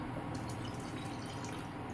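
Water poured into a barley rabri mixture in a pot, a steady soft splashing and trickling pour heard up close without talk.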